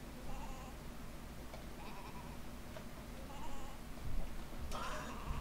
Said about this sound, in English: I heard sheep.